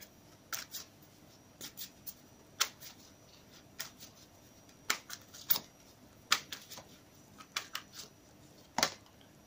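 Soul's Journey oracle cards being shuffled by hand in a quiet room, giving a string of brief, dry riffling snaps and slaps at uneven intervals, close and fairly soft with no talking.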